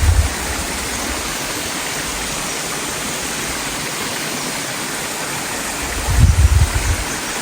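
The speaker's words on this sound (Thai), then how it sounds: "มองนี้เป็นฐานน้ำตกครับผม" Steady broadband rush of a waterfall spilling into a clear mountain stream at its base, continuous and close, with a louder low surge near the end and no voices.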